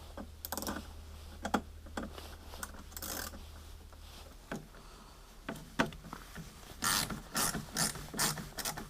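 Screws being loosened on a Ski-Doo snowmobile console with a ratcheting driver, heard as close clicking ratchet bursts in short irregular runs with pauses, fairly quiet and without speech.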